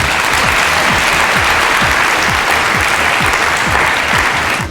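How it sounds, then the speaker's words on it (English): Steady, dense applause from a large audience at a community poster contest event, loud and continuous for several seconds before starting to taper at the end. "Give yourselves all a round of applause."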